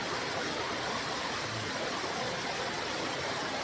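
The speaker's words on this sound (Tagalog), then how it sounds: "Ito yung daloy ng tubig, oh." River water streaming over and around large stones in a rocky stream, a steady broadband rush that holds constant throughout with no voices.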